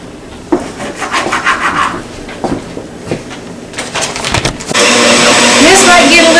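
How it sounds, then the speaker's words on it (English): Meat grinder pushing cut pork and venison fat through for summer sausage, a loud continuous motor whine and grinding that kicks in after some rubbing and handling noises, with people talking nearby. "This might get a little noisy, but we've got the pork cut up and Randy's going to start shooting it through here."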